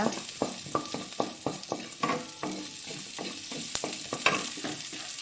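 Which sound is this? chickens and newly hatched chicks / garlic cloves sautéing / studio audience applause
garlic cloves sautéing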